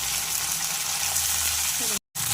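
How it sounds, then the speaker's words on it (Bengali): Minced chicken keema fries in a pan with salt and turmeric, a continuous close sizzle that cuts out for a moment near the end. "এবার আমি এই কিমাটা দিয়ে দেবো, দিয়ে এটা ভালো করে ভেজে নেবো লাল লাল করে।"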